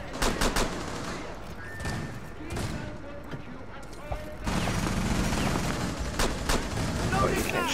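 Gunfire in the video game Rainbow Six Siege, several sharp single shots and short bursts spread through the clip over a steady background, with people talking under and between the shots.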